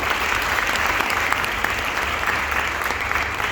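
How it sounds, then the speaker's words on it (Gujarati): An audience at a seminar celebration in Anand claps loudly and continuously, a dense even burst of applause with no voices. "એમના માટે જોરદાર તાળી થઈ જાય."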